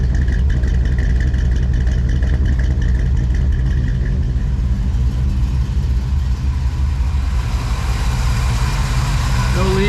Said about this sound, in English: Exhaust sounds great.